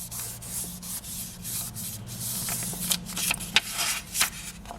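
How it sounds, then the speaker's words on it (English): Hand-rubbed polymer clay pieces being burnished together, a steady soft scratchy rubbing in quick repeated strokes, close and fairly quiet, with no voices. "And then just burnish that down well, so that you stick the two pieces together."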